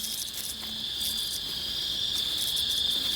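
Cricket chirping steadily, a continuous high shrill trill with brief pulsing bursts, close and fairly loud in a quiet night setting, no voices.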